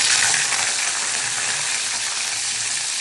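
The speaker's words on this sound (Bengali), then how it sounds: "এখন ক্যাপসিকামগুলোকে ভাজবো" Capsicums fry in a pan with a loud, dense, continuous sizzle of hot oil that holds steady and close throughout.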